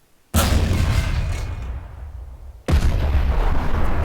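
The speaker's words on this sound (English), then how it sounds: "Now we're gonna fire an incendiary." An incendiary artillery shell fires in Garry's Mod with the GBombs 5 addon: two heavy, sudden blasts a couple of seconds apart, the first rolling off into a long fading rumble before the second hits just as loud.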